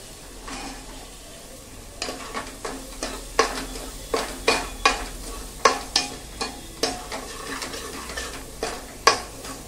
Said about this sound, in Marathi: वाटण तेल सुटेपर्यंत परतून घेऊया